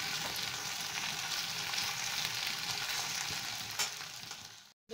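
Tomatoes fry and soften in a pan for tomato masoor dal, a steady close sizzle with faint stirring, cutting out just before the end.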